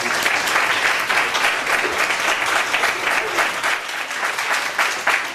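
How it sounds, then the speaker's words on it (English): An audience applauds the panelists at the close of a panel discussion, sustained dense clapping from many hands at even strength throughout, full and near with no speech over it. "Let's have a round of applause."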